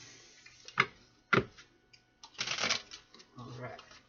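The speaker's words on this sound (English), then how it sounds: "let's do one more shuffle here" Tarot cards shuffled by hand in quiet surroundings, a few sharp riffling bursts and a longer ruffling pass, close and crisp with pauses between them.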